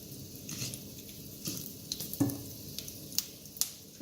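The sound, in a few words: mustard seeds spluttering in hot oil in a kadai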